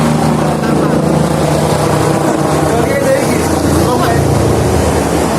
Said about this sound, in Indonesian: Kapal.